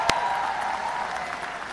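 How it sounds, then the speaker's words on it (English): Applause at a university commencement ceremony for the first graduates of a digital media management program, a brief, even patter of clapping from an audience, fairly soft and distant, with one sharp clap near the start. "Let's give a round of applause for our first ever graduates of the Digital Media Management Program"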